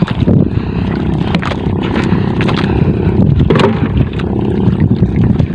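A fishing boat motor churns loudly and steadily over rushing water and wind buffeting the microphone, continuous throughout with no talking.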